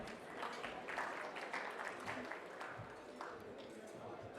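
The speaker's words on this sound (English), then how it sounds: "a huge round of applause for our dynamic panel" A conference audience claps steadily for a panel, a broad wash of applause that holds at an even level throughout, with no voices standing out.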